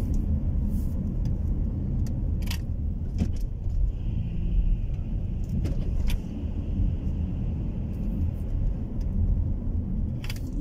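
Steady engine rumble and road noise from a car driving through Luton town centre in the early morning, continuous and fairly loud from inside the vehicle, with a few light rattles.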